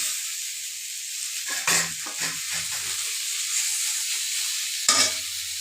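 Ridge gourd frying with ish fish in oil in a pan gives a steady close sizzle, broken by a few spoon stirs and scrapes against the pan.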